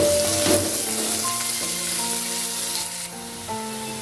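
Onions frying in oil in a pan with sugar and a half spoon of turmeric for a Bengali potol chingri dish, a steady, close sizzle that runs throughout with a few light stirring clinks.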